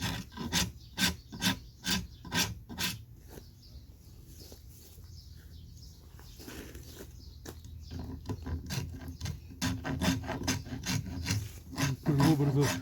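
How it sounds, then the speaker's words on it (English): A half round rasp files a wooden saddle stirrup in repeated close strokes, rhythmic rough scraping that pauses briefly midway and then resumes in quicker passes. "And then we can finish up with our half round rasp."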